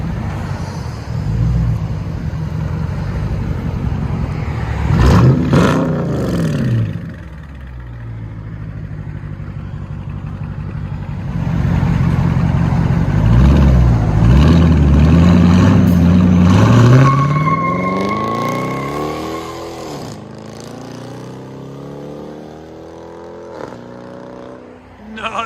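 A 2010 Dodge Charger SRT8 with a straight-piped V8 exhaust revs in loud, raspy bursts that climb and fall, with a longer sustained rev midway and a final rising pull that fades out.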